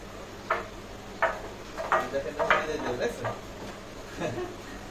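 Ripe native dates shaken loose from a date palm land as a scattered series of soft, dull thuds and light ticks, several close together in the middle, with voices faintly in the background.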